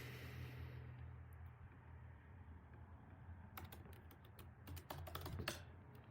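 Soft, quick keystrokes on a computer keyboard as a password is typed, arriving in short clustered bursts over a low steady background hum, fairly faint and with no talking.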